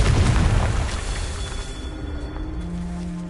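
A Confringo fire spell explodes in Hogwarts Legacy, a loud close boom that rumbles and slowly fades over a few seconds.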